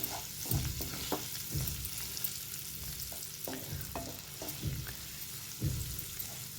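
Ginger garlic paste frying in a pan, with soft continuous sizzling and a few louder thumps from stirring, close and steady, no voices.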